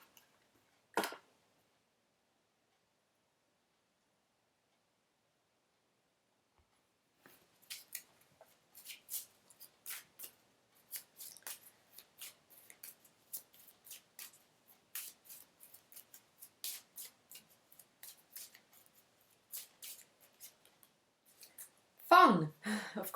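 Angels of Light oracle cards being shuffled by hand, a long run of soft, quick riffling clicks and flutters with a few louder handling noises at the start and end.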